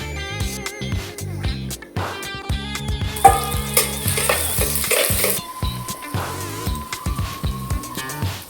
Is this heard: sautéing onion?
yes